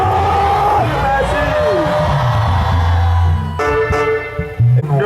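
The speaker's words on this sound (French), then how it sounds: "Les acclamations pour les acclamations pour l'Éternel." A crowd at an outdoor evangelism meeting in Gbachihoue cheers and acclaims God, loud whoops and yells rising together, with a voice calling out over the noise.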